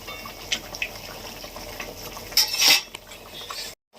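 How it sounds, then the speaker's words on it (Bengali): Potatoes and telakucha greens being stirred in a cooking pot, giving scattered light scraping and clinking with one louder clattering burst near the end, close by with no talk. "একটু আলু টালুগুলো একটু ঘেটে ঘুটে দিচ্ছি"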